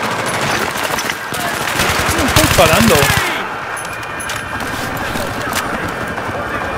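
Rapid machine-gun bursts in the video game Battlefield 3, loud and close, firing in sustained rattling volleys that stop abruptly partway through, with someone speaking Spanish briefly over the gunfire and scattered game noise continuing afterward.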